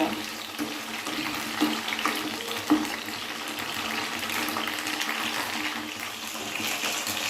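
Pointed gourds (potol) fry in oil on a medium flame, giving a continuous sizzling hiss with a few brief louder pops.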